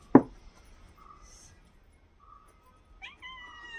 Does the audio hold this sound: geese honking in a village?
no